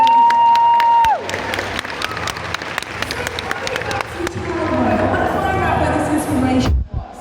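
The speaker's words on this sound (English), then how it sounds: "Round of applause for that." A crowd at an eighties fan reunion event applauds and cheers for a voice actor, a tone cutting off as clapping swells into dense, lively cheering that builds again toward the end, with voices mixed in.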